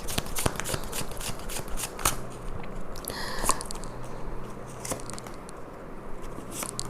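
Tarot cards being shuffled by hand, a steady run of close, crisp riffling and flicking card sounds with small pauses, no voices over it.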